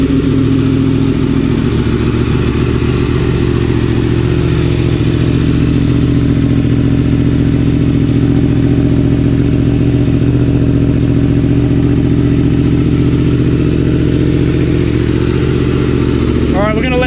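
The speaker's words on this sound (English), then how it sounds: "we're going to let the bike warm up and we'll get out on the road" A Yamaha MT-10 motorcycle idles while warming up, a loud, steady low engine rumble held close throughout, with a brief rev or clatter near the end.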